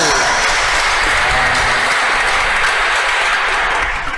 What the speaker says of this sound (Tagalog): Palakpakan natin ang sakramento ng kumpisal.